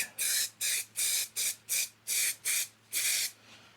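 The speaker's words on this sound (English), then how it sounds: "I'm just using some primer, some sandable primer" Sandable primer sprayed from an aerosol can onto the body panels of a Datsun 280Z: eight or nine short, even hissing bursts in quick rhythm, close and loud, with a faint hum beneath.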